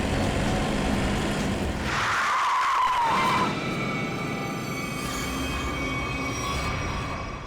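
A car skids to a sudden stop on a road, nearly hitting a pedestrian: a broad, loud tire screech rises briefly over constant traffic-like roar, then fades back into steady noise, with no talking.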